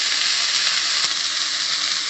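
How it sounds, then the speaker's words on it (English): Mint leaves fry in a pan for pulao, giving off a steady, even sizzle and hiss that carries on without pause and with no talking. "we have to fry mint leaves well"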